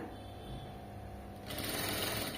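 A sewing machine runs steadily, stitching two layers of fabric along a seam, with its motor hum growing louder and busier about halfway through, close and alone.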